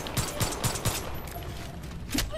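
Pistol shots in the shooter Far Cry 5: four quick sharp cracks in a rapid burst at the start, then a pause and one more shot near the end, crisp and close.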